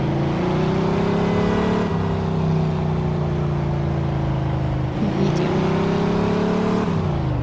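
A car engine in the video game Mafia 2 revs hard and loud, with a sustained, droning tone that shifts in pitch a few times as the throttle is held.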